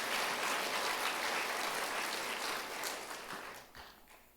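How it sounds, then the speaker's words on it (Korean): A church congregation at a Sunday afternoon service applauds, a faint, dense patter of clapping that holds steady and then tapers away near the end. "한 번 더 박수 보내줘야 돼"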